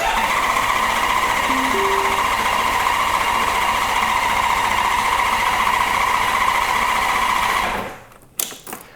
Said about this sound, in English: all I have to do is turn the bike on and crank it